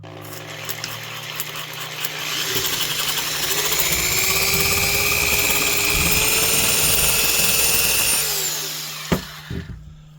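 DeWalt DW890 18-gauge sheet metal shears cut through a thick, soft, fibrous material. The motor whines up into a loud, sustained, buzzing cut, then winds down, followed by a few sharp clicks and knocks.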